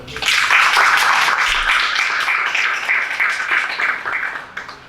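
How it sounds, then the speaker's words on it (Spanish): A lecture audience at a CEDODAL heritage talk gives a warm round of applause, a thick, even wash of clapping that holds steady and then tapers off over about five seconds, with no talking. "Lo recibimos con un fuerte aplauso"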